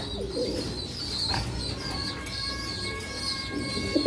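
Caged pigeons at a pigeon sale, with a low steady murmur of cooing and bird calls throughout, some faint chirps and a thin tonal hum midway, and a brief louder burst near the end.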